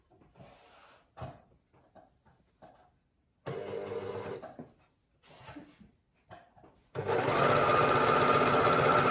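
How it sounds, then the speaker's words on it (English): An overlocker stitches the outside leg seams of pyjama pants in short whirring bursts separated by pauses, ending in one longer, steady run close by. "I'm going to be attaching both together so that you've got one nice, evenly finished overlocked seam that's not going to fray."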